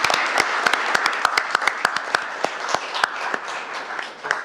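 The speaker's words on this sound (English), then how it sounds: "a big round of applause" Scattered applause in a city council chamber: a modest group clapping in sharp, distinct hand claps at an uneven rhythm, close and fairly loud, thinning toward the end.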